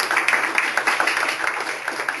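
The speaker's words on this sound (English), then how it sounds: "Another round of applause," Audience applause at a business conference session, a steady patter of many hands clapping at moderate volume throughout, with no talk over it.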